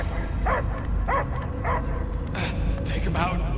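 A dog in the Guardians of the Galaxy video game lets out several short barks and yips at a regular pace, followed by higher whimpering cries, over a low background rumble.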